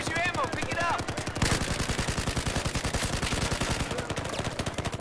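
Battlefield 4 Rush match gunfire, a fast steady rattle of automatic weapon fire running continuously and close, with a few heavier cracks and a brief voice at the start.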